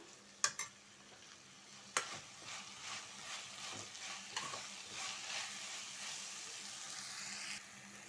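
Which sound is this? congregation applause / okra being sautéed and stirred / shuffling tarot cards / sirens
okra being sautéed and stirred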